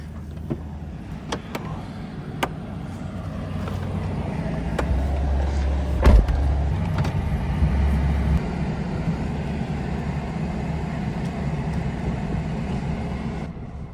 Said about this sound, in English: I'm gonna drive my truck down there, I think.